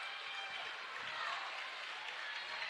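Crowd at a high school girls basketball game between West Hancock and Carrollton applauding and cheering as overtime begins, a steady broad wash of clapping throughout.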